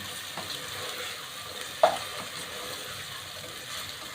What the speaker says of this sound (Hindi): लहसुन अदरक का पेस्ट डालूंगी, ये 2 टेबलस्पून। थोड़ा सा भूनना।